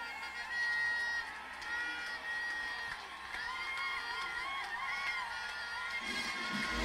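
A jubilant crowd cheers and shouts throughout an enthronement and soil-purification ceremony in the Democratic Republic of Congo, with whoops and children's shouts in a steady roar that swells near the end.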